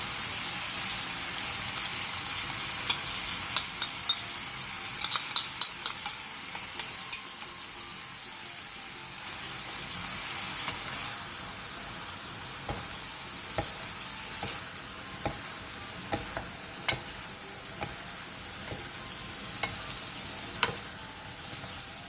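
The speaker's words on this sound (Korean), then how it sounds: "팬에 기름을 두르고 양파, 당근, 양념장을 넣고 중불에서 양파가 숨이 죽을 때까지 볶아주세요" Onion, carrot and seasoning sauce stir-fry in an oiled pan over medium heat, a steady close sizzle broken by repeated sharp clicks and scrapes of a utensil against the pan.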